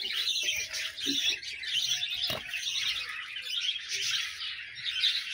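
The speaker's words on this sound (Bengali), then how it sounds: "এইখানেও রয়েছে পাখি" Birds at a nesting colony chirp continuously, a dense chorus of high, overlapping tweets with a few lower calls mixed in, moderately near and without speech.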